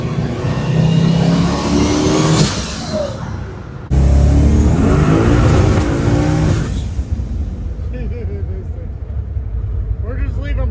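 A hotrod engine revs hard and accelerates, loud roaring bursts with a gear change partway, then the sound falls away into the distance while people talk excitedly over it.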